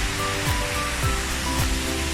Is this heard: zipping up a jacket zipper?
no